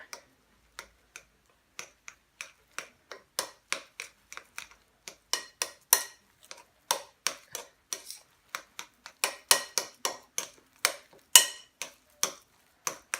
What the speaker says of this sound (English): Let's stir that up and check our consistency.